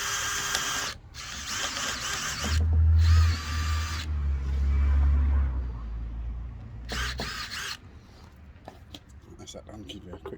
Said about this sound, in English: but literally just drilling a hole.